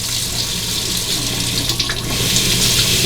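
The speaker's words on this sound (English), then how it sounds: "Let me rinse that." Steady running tap water splashing as a shavette razor is rinsed under it, close and continuous without pauses.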